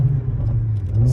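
Sports car accelerating hard, a steady loud engine drone with a strong low hum building slightly toward the end, heard close from inside the cabin.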